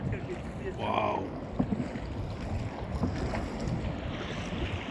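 Small pirogue boat riding waves in wind off Madagascar, with rushing water, wind buffeting the microphone and occasional thumps of the hull, moderately loud throughout.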